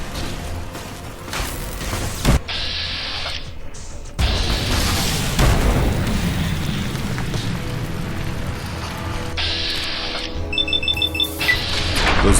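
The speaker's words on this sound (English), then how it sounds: "Those large explosions are rather upsetting." Large explosions in the Tale of Two Wastelands video game go off as heavy booms, one short blast and then a longer rumbling one. A mechanical whir follows, with beeping tones near the end, all fairly loud and with no talking.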